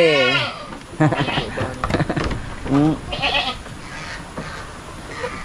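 Goats on a rainy farm bleat in several wavering calls, close and fairly loud, while people talk nearby between and over the cries.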